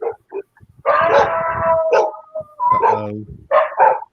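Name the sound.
dogs barking across the street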